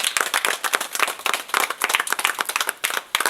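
A church congregation claps and applauds in praise, a dense, continuous patter of many hands at a lively pace, fairly close and loud, with no voices standing out.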